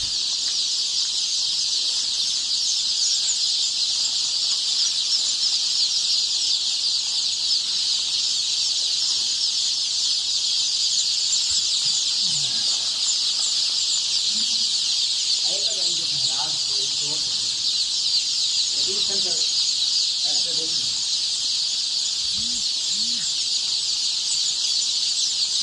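Thousands of chicks fill a partitioned shed on a poultry farm in Punjab, Pakistan. Their dense, high, shrill peeping forms an unbroken chorus throughout, and faint low voices or calls surface briefly in the middle.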